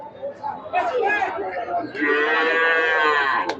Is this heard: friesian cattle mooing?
yes